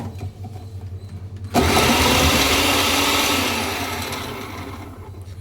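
An Inalsa food processor chopping onions starts abruptly into a loud, steady whirring motor drone that holds for several seconds, then eases down slightly before cutting off, heard alone without talk.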